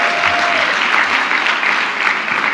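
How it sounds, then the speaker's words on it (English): A loud, dense round of applause from the audience at a women's equality luncheon, sustained and steady throughout the brief moment. "Give her a big hand also."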